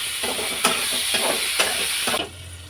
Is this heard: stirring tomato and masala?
yes